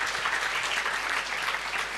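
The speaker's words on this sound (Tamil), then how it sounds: "உங்கள் கைத்தட்டல் மூலமாக என்னுடைய வாழ்த்துக்களை தெரிவித்துக் கொள்கிறேன்" An audience at a Tamil motivational speech event bursts into applause. Many hands clap in a dense, even wash that lasts just a couple of seconds.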